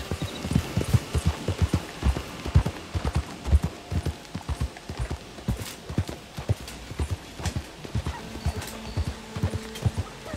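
Horse hooves clip-clopping in the video game Red Dead Redemption 2, a steady, even trot of close, crisp hoof falls running through the whole stretch, with a brief whinny-like tone near the end.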